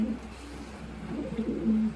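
A racing pigeon in its loft gives soft, low cooing notes, a couple of brief throaty coos over a steady background hum, with no talking.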